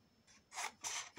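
Excess paper trimmed away while making a scrapbook album, heard as three or four short close scraping cuts in quick succession, quiet, with no talking.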